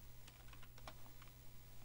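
Quick bursts of typing on a computer keyboard, a handful of light key clicks in an irregular rhythm, close but faint over a steady low hum, with no talking.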